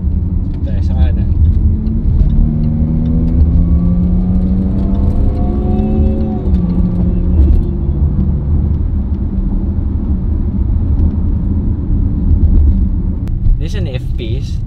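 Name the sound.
Jaguar F-Pace SUV accelerating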